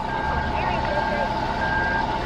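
A truck in Farming Simulator 19 backs up, its reversing alarm beeping steadily over a low engine rumble while someone talks over it.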